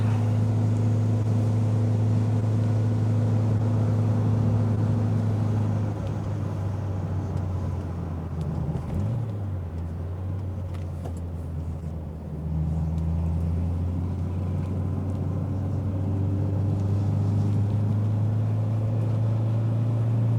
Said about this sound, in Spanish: El motor responde muy bien. Al final es el motor del 127